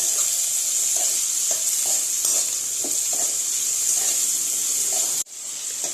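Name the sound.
tomatoes sautéing in a pan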